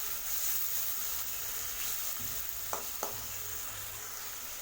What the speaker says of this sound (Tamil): தக்காளி வதக்கி விடுங்க.